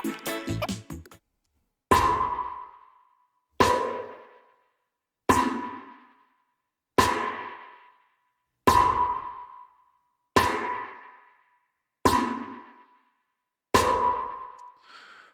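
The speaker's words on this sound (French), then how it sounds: "une plate pour la snare" Snare drum hits drenched in plate reverb inside Ableton for a dub mix: eight evenly spaced strikes, each blooming into a long, smooth decaying tail that fades almost fully before the next hit.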